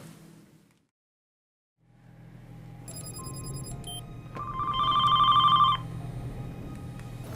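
A telephone rings on a call out to a neighbouring hospital, its electronic tone repeating in bursts over a low room hum, growing louder midway before settling.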